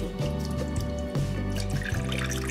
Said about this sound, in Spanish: despacito vamos a ir colocando el agua aquí